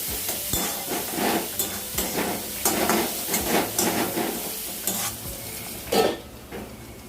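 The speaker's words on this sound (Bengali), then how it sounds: "ধীরে ধীরে মশলাটা কষাতে থাকবো" Spice paste for a banana-flower kofta curry is stirred and fried in a pan, steady sizzling broken by rhythmic scraping strokes of a spoon, close and loud throughout.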